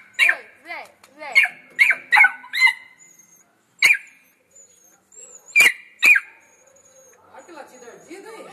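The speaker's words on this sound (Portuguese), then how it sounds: "Olha que latido ardido aí" A dog barks in sharp, close, loud bursts, several quick barks then scattered single ones with pauses between, in a home setting, with a person calling to it in Portuguese.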